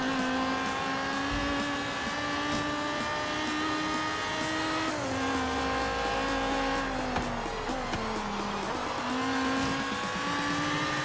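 Car engine in Forza Horizon 3 revving through rising and falling gear changes, loud and close, with tire squeal and skidding as it drives hard.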